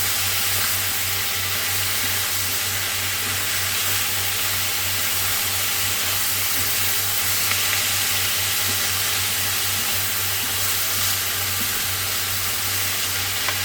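Chicken fajita vegetables sizzle steadily and loudly in a hot pan, a constant hissing fry with no break, alongside a low hum.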